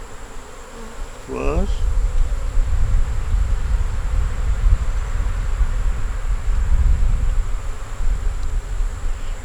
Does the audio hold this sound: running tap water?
no